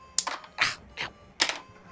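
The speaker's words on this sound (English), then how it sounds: "let me just cut this cable out, because it's currently zip-tied" Scissors snip through a plastic zip tie holding a cable: three or four short, sharp cutting clicks spaced irregularly, close and crisp with no talk.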